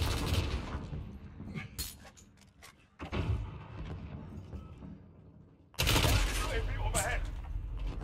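Bursts of gunfire in Call of Duty Modern Warfare multiplayer, with sharp shots and a heavy volley near the end, mixed among game effects and a voice talking over them.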